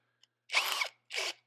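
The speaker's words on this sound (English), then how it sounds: "I'm just going to ensure our fit up by putting these screws in place" A power drill drives screws into the sail panel of a 1940s Chevy chop top in two short bursts, the first longer, close and fairly loud in a quiet workshop.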